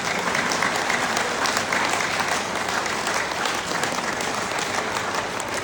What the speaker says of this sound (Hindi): ताली भी मारना तो धीरे धीरे मारना,